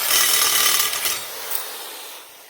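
Cutting through a rear axle at its midpoint with a power tool, a steady bright grinding-saw hiss that runs loud and close for the whole stretch, fading slightly toward the end, with no talking.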